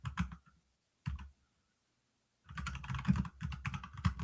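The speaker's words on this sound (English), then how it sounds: "Sorry for my typing." Fingers type on a computer keyboard in quick bursts of clicking keystrokes, a short flurry, then a pause, then a longer run of close, crisp typing with no talking.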